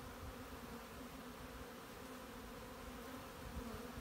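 Honey bees buzz steadily around a hive brood frame, a dense, continuous drone of many wings close by, holding an even level with no voices.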